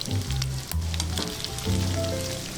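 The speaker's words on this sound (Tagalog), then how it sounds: "Pagkakabango ng bawang na natutusta." Garlic sizzles steadily as it toasts in a pan for pork adobo, with a close, bright crackling fry and a low steady hum beneath, no voices.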